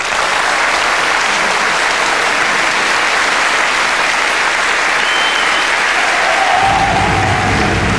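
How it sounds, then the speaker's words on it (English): A loud, continuous round of applause and cheering greets a guest of a paranormal investigation group, thick close-up clapping that holds steady throughout, with a low rumble entering near the end. "Kieran O'Keefe, give him a round of applause."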